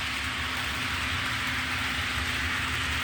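Athearn EMD GP38-2 model locomotive from the Spirit of 76 train set rolling on its track, a steady, close whirring motor hum with constant smooth metal-wheel rolling noise.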